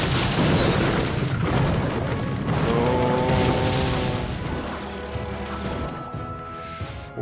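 A grenade blast in the mobile battle game Clash Royale, a loud booming burst with crashing debris that fades over several seconds into game music and effects.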